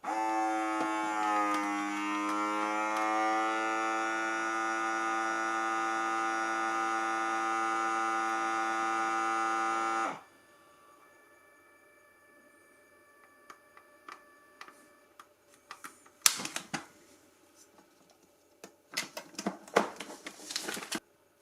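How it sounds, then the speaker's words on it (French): A CalmDo vacuum sealer seals a bag, giving a steady loud electric hum for about ten seconds that stops abruptly, followed by faint clicks and a few sharp clacks of the machine. "Je veux simplement sceller. J'appuie sur le bouton sceller."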